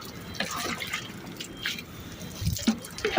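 Water poured and splashed onto a truck tire outdoors, a close, uneven run of trickling and dripping with a few louder splashes near the end.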